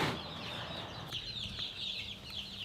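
Chickens in a pastured poultry chicken tractor on grass cluck softly and intermittently, with quick chirpy calls, close by and fairly quiet.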